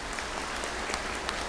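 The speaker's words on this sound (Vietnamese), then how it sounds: "quý vị cho một tràng pháo tay" An audience at a Buddhist ceremony claps in a brief burst of steady applause, many hands blending into a dense, even patter at moderate volume, with no one speaking.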